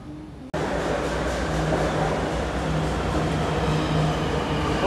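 Steady rumbling ride aboard a Line 6 metro subway train, a continuous loud roar with a low hum and rail noise filling the whole stretch after a brief quieter start.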